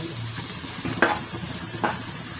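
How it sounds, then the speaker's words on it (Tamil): Onions and garlic sautéing in a pan for country chicken curry give a soft, steady sizzle, broken by a couple of brief scraping stirs of a spoon against the pan, close and fairly quiet. "நல்லா வதங்கிட்டு இருக்கு"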